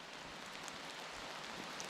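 Steady rain hissing down onto a gravel driveway, a dense even patter with a few louder drops, no voices and no break in the sound.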